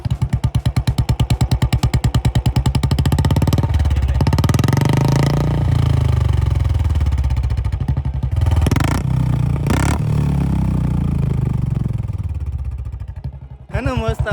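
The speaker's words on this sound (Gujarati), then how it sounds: "અને બાઇકનું એક્ઝોસ્ટ ચેક કરો." Royal Enfield Bullet motorcycle idling loud and close with a steady thumping exhaust beat, revved several times in short bursts, dipping briefly near the end before picking up again.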